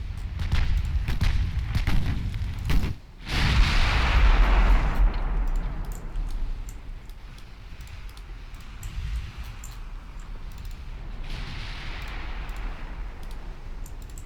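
First World War era naval gunfire in the Ultimate Admiral Dreadnoughts game, shells hitting a light cruiser: a burst of heavy booms and cracks, then a big blast followed by a rumbling, fading roar, with no voices.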